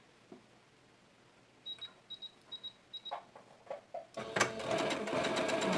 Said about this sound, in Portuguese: Aí eu vou pra máquina e vou passar uma costurinha bem na beiradinha do tecido.